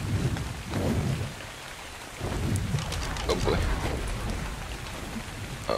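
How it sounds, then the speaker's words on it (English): Steady heavy rain with low rumbling thunder falls in the video game Ark Survival Evolved, continuous and fairly loud, with someone briefly speaking over it. "Hard to see with this freaking rain."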